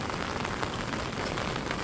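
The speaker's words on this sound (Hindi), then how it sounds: "अभी जाके बारिश थोड़ी सी कम हो गई है लेकिन बारिश तो हो ही रही है" Steady rain falls on a village garden where bean and bitter gourd vines grow, a dense, even hiss of drops close by with no pauses.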